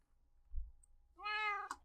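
A cat meows once inside a video game, a clear, fairly loud harmonic call that rises and falls, ending in a brief higher burst, after a quiet low thump.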